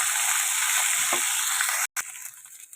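Fresh mint leaves fry in a pan with green chillies, dried red chillies and cumin, giving a steady close sizzle with a brief stirring scrape, then the sizzle quiets after a short break.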